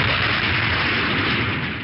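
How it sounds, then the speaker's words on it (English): A recorded sonic boom gives a loud, broadband rumbling blast that fills the whole short stretch and tapers slightly at the end, heard on its own with no talking. "We found this sonic boom online."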